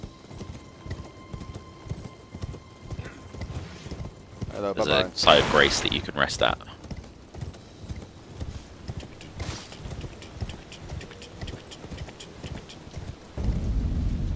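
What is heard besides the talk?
horse galloping in Elden Ring video game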